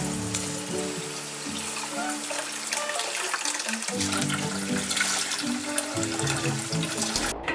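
Cooked noodles for Korean gimmari are rinsed under cold running water, a steady close splashing and rushing stream with shifting tones as the noodles are moved around, and a brief voice in the background.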